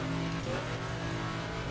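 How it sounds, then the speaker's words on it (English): A drag car engine in the racing game The Crew holds a loud, continuous, buzzing rev for a moment, with no voices. "And I'm still in my drag car."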